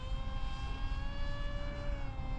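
The FF-35V2, a fairly large RC model plane with a 29.5-inch wingspan and a propeller, flies past on its maiden flight. Its steady, high-pitched motor whine drones over a windy outdoor rumble, with no talking.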